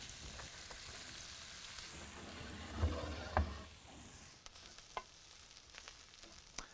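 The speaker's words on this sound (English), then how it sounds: "we're gonna throw our pancetta in there, and then we're gonna render that out, get it nice and crispy" Pancetta rendering in a hot cast iron pan over a wood fire, a steady broadband sizzle with a couple of brief louder pops and scrapes near the middle, no voices.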